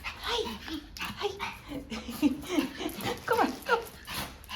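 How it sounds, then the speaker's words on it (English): Puppies whimper and yip in quick, overlapping bursts close by, while excited human voices greet them over the small cries. "let's go to the puppies"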